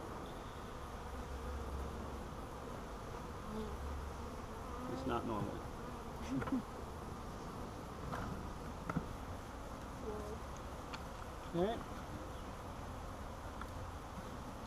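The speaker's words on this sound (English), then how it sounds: "There's going to be a lot of bees in the air," A swarm of bees hums continuously in the air during a swarm catch installation, a steady, fairly faint drone with a few brief knocks and a voice speaking briefly.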